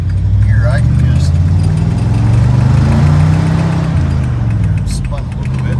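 Car fitted with a new Holley carburetor pulling in second gear on a dirt road, its engine rising and falling in a loud, close mid-low growl as it accelerates.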